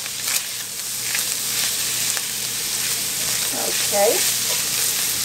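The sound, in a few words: bacon cheeseburger filling tossed and sizzling in a pan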